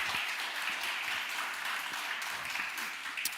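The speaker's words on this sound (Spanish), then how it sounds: "Dele fuerte palmas al Señor" A church congregation at a Sunday service claps for the Lord, a steady wash of hand clapping from a crowd at moderate distance, tapering slightly near the end.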